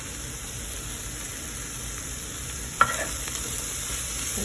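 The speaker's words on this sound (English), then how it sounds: "and give this all a stir." Mushrooms frying with oregano and garlic in a pan make a steady, even hiss that carries through the whole stretch, with one sharp clack partway through and a faint scrape of stirring after it, heard close and without speech.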